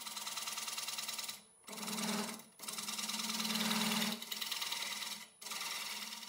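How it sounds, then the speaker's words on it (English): Woodturning lathe with a diamond carbide tool cutting an aspen bowl, a steady buzzing scrape in long passes broken by three short pauses as the tool lifts off, close and fairly loud with no talk. "This is my diamond carbide tool, and it was just convenient for trying to go in sort of straight."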